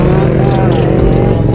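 A Honda NC700 motorcycle engine hums steadily up close, a constant throaty rumble with faint voices in the background.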